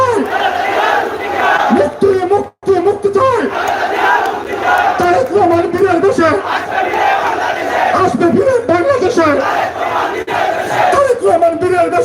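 Huge crowd at a BNP political rally in a marketplace chanting slogans in unison, loud and rhythmic, with call-and-response surges and a brief pause midway.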